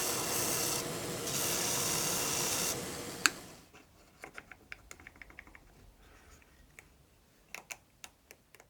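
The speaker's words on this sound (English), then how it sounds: "So I'm going to mark it on both sides and sand a little bit more off" A steady close rasp of sanding on the jaws of a homemade knife sharpener lasts about three seconds, followed by a sharp knock and then scattered light taps and clicks of handling.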